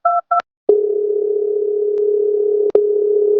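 A telephone call connects: two short keypad-like beeps, then a click and a long steady ringback tone, loud and alone.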